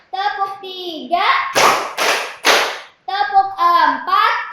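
A few sharp hand claps ring out one after another between chanting voices, with sung counting before and after the claps.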